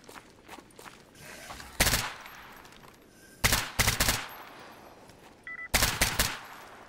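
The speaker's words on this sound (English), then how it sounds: "Hearing some gunfire around here." Short bursts of rapid gunfire in the game Stalker GAMMA, three volleys separated by quieter stretches, sounding moderately distant.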